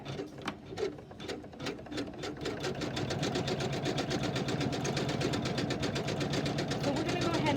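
A computerized embroidery machine stitches a church design on fabric, its needle starting in spaced beats and then settling into a fast, steady mechanical chatter close up, with a voice speaking over the start.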